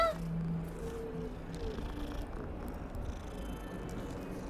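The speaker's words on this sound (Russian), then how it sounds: "Котика погладить можно." A cat purrs softly in Hogwarts Legacy while being petted, a low continuous rumble under faint game ambience, with a short meow-like call at the start.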